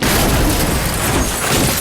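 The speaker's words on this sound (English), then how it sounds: "the dude fell on my motherfucking cab" A stuntman crashing down onto a taxi cab on a film set, a loud, dense, sustained bang and crunch filling the whole moment without any voices.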